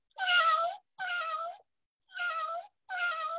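A voice imitates a cat's meow four times, each drawn-out mew clear and close with short pauses between, nothing else heard.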